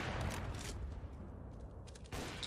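Gunfire from a Counter-Strike: Global Offensive (CS:GO) match during a competitive stream, with dense bursts of shots and booms over in-game noise, loud and close, fading in the middle then a sharp shot near the end.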